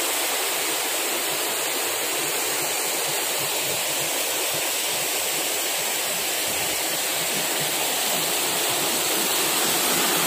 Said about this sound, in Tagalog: Nakaka-relax yung tunog ng tubig.